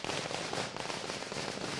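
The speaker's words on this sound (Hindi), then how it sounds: "लगातार आतिशबाजी हो रही है इस खुशी में उस तरफ।" Fireworks and firecrackers go off continuously in a celebration in India, a dense crackling barrage of rapid pops heard from a distance without any voices.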